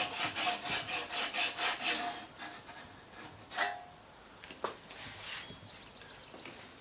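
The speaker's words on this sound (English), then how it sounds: "I'm actually using a handsaw to get in the split" A handsaw cuts into a split in an antique oak table, with about eight quick rhythmic strokes close up, then a few sparse scrapes and knocks.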